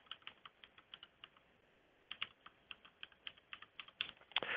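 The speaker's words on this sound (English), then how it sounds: "we're going to enter it again just to make sure I typed it correctly" Password typed on a computer keyboard, a quiet close series of light key clicks in uneven bursts with short pauses, ending in a quicker cluster of taps.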